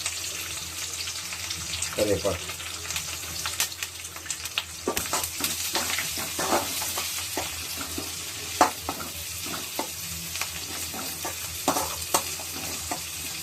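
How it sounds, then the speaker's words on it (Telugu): Onions fry in a pan for an egg chicken curry, a steady broadband sizzle with frequent stirring scrapes and clinks, fairly close, with a little tap water running and no talk. "ఉల్లిపాయలు వేగిస్తున్నాం, బాగా వేగాలండి."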